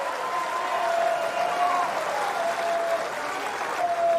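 A tennis crowd at the 2024 US Open applauding and cheering steadily, loud clapping sustained throughout with a few whistles rising over it.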